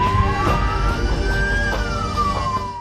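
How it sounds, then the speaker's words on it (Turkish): An ambulance siren wails loudly on a road in Ordu, Turkey, its tone rising and falling in a slow sweep over the rumble of nearby traffic, with no voices. "sürücüler acil bir durumda olan ambulansın siren sesini duyunca büyük bir fedakarlık örneği sergilediler"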